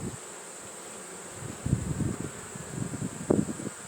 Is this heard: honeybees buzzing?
yes